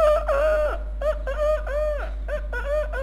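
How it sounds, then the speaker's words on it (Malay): Rooster crow from an alarm tone, a single loud, close call drawn out in several rising and falling segments, heard alone over a low steady hum. "Alarm jam, alarm ayam bunyi."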